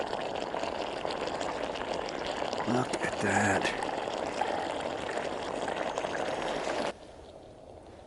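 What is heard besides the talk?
stovetop espresso maker bubbling as the shot brews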